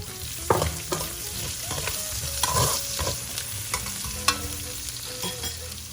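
Scallions sizzle and fry in a hot pan while being stirred, with a steady crackling hiss broken by intermittent scraping and clinks of the utensil, close up and without talking.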